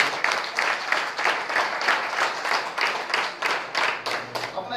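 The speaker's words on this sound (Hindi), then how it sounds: "जोर और तालियां हो जाएंगी" A training-session audience claps together in a rhythmic, pulsing wave of applause, fairly distant and even, rising and falling in regular beats for the whole stretch.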